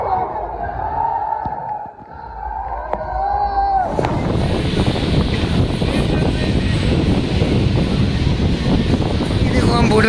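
A boat ride with steady broadband wind noise buffeting the microphone, loud and continuous from about four seconds onward after a quieter stretch with faint background sound.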